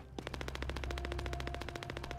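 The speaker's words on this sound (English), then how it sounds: "This is the hand cannon." A hand cannon in the video game The First Descendant fires rapidly in a fast, even stream of loud, close shots lasting about two seconds.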